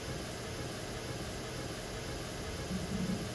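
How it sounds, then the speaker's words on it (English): Game Boy noise channel playing steady white noise in LSDJ, a broad, even hiss held for a few seconds with no talking over it. "And then the last channel is the noise channel."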